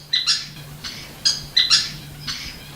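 Several birds calling in a wetlands aviary habitat, sharp chirps and squawks in short bursts repeating irregularly, fairly close, over a low steady hum.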